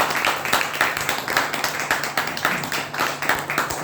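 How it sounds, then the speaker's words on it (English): A room claps at a Toastmasters club meeting after a first prepared speech, brisk close applause with a pulsing rhythm that holds steady throughout. "Can we give her another round of applause for"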